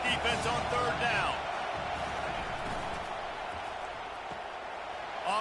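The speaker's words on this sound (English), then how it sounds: "Decibels rising as the crowd gets behind this defense on 3rd down." Stadium crowd noise from a College Football 25 game between Washington and Georgia swells into a steady roar on a third-down defensive stand, heard under continuous commentary.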